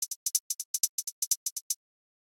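Crisp closed hi-hats in a house drum pattern with a hip hop NY cut swing preset applied, ticking in thirteen bright hits grouped in uneven swung pairs, then stopping cleanly into silence.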